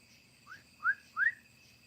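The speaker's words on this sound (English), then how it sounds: "I heard a whistle." Three short rising whistles, each brief and sliding upward in pitch, sound over a faint steady background hum.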